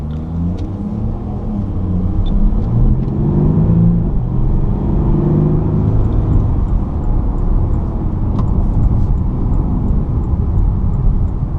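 A 2016 Porsche Cayenne with a 3.0L V6 diesel accelerates, its low engine drone and road rumble building and holding steady from inside the cabin, fairly loud, with no talk.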